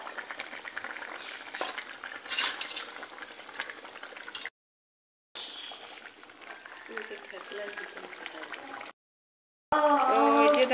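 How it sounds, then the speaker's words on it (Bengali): A fish head goes into a simmering potato curry, giving a steady close sizzle and bubbling broken by two brief silent cuts, with a person talking over the cooking. "তো এখন এই যে মাছের মাথাটা দেওয়া হচ্ছে।"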